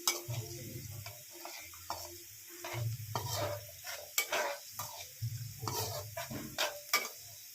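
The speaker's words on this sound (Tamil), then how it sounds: "இஞ்சி பூண்டு சேர்த்துட்டு இஞ்சி பூண்டு நல்லா பொரிஞ்சு வரட்டும்." Ginger and garlic fry in hot oil, crackling and sizzling in bursts while a spoon stirs and scrapes against the pan, with clicks and clatters spread across the whole span.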